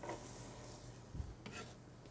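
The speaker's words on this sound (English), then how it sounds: "Now I'm going to add my onions in here. I want to saute them until they're kind of a little translucent." Onions sautéing in a pot for roasted red pepper soup, a faint soft sizzle with a brief scrape of a utensil stirring midway.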